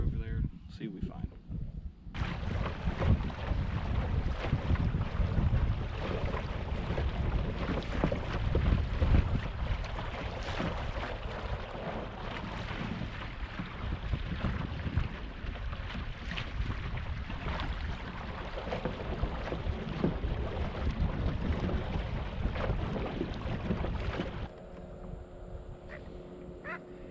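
A small motor pushes a kayak across a lake at Moraine State Park, a steady close rumble with wind buffeting the microphone for most of the stretch, then easing off near the end.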